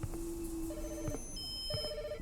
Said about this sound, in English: And now the phone's ringing.